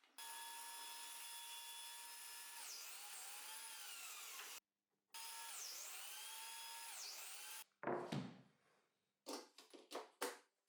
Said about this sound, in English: I'll finish these cuts with a jigsaw.